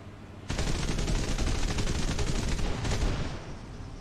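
Rapid aircraft gunfire in the War Thunder flight game, aimed at a Bf 109, erupts suddenly and continues as a dense, loud rattling burst for about three seconds before tapering off.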